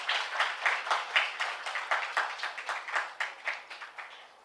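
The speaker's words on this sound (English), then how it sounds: "So I would like to just give a round of applause for all the panel speakers today." An auditorium audience at an HR summit applauds the panel speakers with steady, pulsing clapping at moderate volume that fills the hall, with no talking.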